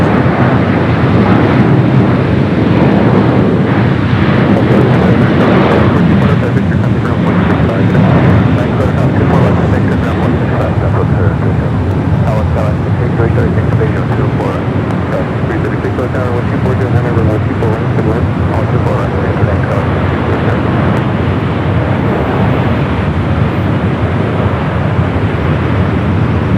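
Delta flight 2568 jet taking off from runway 24 left at Los Angeles International Airport (LAX), a loud, steady broadband engine roar holding throughout with gusts of wind buffeting the microphone.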